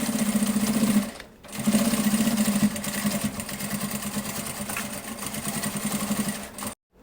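A sewing machine runs a safety seam through the lining of a fabric toiletry bag. The motor hums steadily with a brief pause after the first second, then keeps stitching close up and fairly quiet.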